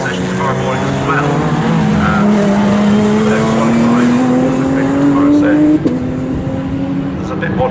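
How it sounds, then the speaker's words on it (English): Lotus Evora GTE race cars at speed on a circuit in the GT Cup Championship, a loud sustained engine drone rising in pitch through a gear, with a shift near the end, under a commentator's talk. "Michael Igo completes the second lap, speeding away at the moment from the fight between the two drivers"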